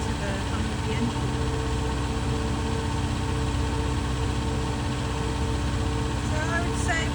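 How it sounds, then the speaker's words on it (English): A car engine hums steadily at idle while crossing the Parramatta River on the Putney Punt ferry in Sydney, a constant low drone with faint background noise and no sharp events. "Just listening to the hum of the engine."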